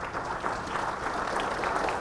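Steady, even applause from a large audience at a regional financial integration event fills the space for about two seconds without a break, with no voices over it.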